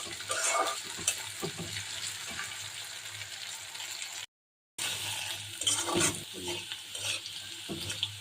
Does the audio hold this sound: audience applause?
no